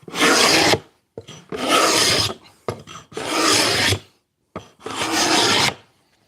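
A hand plane shaves a small wooden table top in four long, close rasping strokes, each lasting about a second, separated by brief pauses, with no talking.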